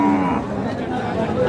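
Sahiwal breed bull calves lowing at the Ambari cattle market in Dinajpur, with moos rising over a steady crowd murmur and nearby chatter for a brief moment.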